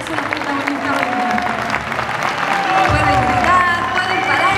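Audience applause and cheering at the closing of a dance gala, a crowd clapping with whistles and shouts mixed in, voices audible underneath and growing louder toward the end.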